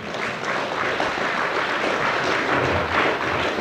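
A lecture-hall audience claps together in a steady, dense round of applause for a few seconds, loud and continuous with no talk over it.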